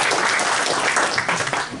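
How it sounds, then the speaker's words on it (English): An audience applauds after a presentation in a class session, with dense, steady clapping heard close and filling the whole moment. "So I'll applaud you for that."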